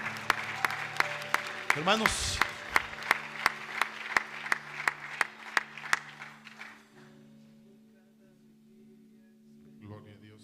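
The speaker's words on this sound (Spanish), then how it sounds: "Démosle palmas al Rey." Congregation in a church service clapping in a steady rhythmic beat for several seconds, with a voice speaking briefly over it, then the claps stop and the room goes quiet before faint talk.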